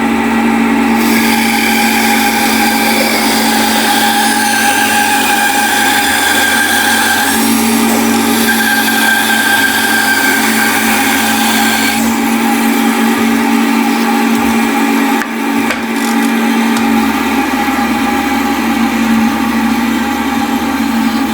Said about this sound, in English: I'm going to fire the saw up and make that happen quick.